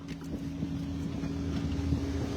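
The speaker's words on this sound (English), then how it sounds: "It's a little windy." Wind buffets a microphone outdoors at a construction site for concrete foundations, a steady low rumbling roar with a faint droning hum, loud and continuous with no talk.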